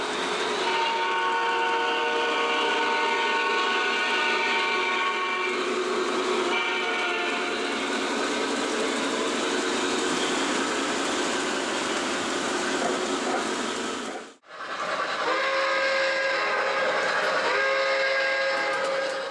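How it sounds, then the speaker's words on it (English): A steady, loud rumble of a Lionel TMCC Hiawatha model electric train running, with sustained whistle tones held over it for most of the run, a brief gap near the end. "The Lionel TMCC Hiawatha set."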